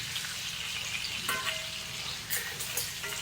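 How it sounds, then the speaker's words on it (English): Bacon frying in a pan: a continuous close crackling sizzle with scattered sharp pops and a brief scrape of stirring, no talking. "even cooking going on with all the bacon"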